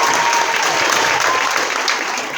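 A crowd claps for second-year members standing up, a loud, full burst of continuous applause from many people that holds steady and eases slightly toward the end.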